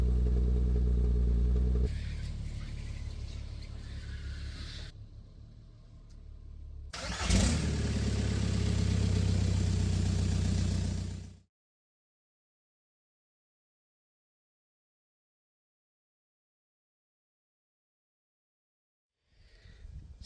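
A VW Bora/Jetta TDI diesel engine turns over and runs loudly at close range for about eleven seconds with a brief rise midway, then cuts to silence before a faint sound returns at the end.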